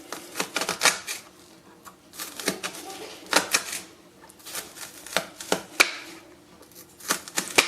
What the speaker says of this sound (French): Je vais venir faire des incisions sans couper la partie racine